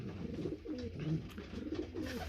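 Soft, low pigeon coos repeat continuously in a loft, several birds overlapping close by in a steady murmur.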